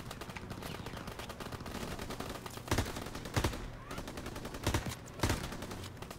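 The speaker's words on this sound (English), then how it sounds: "All I just see is gunfire" Dense gunfire from the D-Day beach landing in Call of Duty: WWII, with continuous automatic bursts and several louder, sharper shots cutting through a steady background of battle noise.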